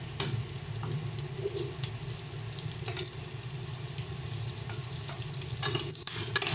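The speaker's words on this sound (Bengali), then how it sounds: "এবার এর মধ্যে আমরা কেটে রাখা টমেটোটা দিয়ে দেবো।" Chopped tomato frying with onion in a pan for pasta, a quiet, steady sizzle with light stirring clicks and a few splashy, watery bursts near the end, no speech.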